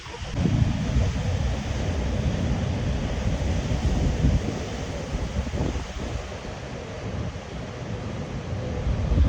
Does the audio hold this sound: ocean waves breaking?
yes